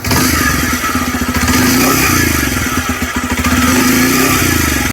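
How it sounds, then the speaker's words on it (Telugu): Bajaj Pulsar 125cc motorcycle exhaust note, a steady close, loud engine drone with a rhythmic pulsing thump and slight revving throughout, no talking. "అండ్ ఎగ్జాస్ట్ నోట్ కూడా ఒకసారి వినండి."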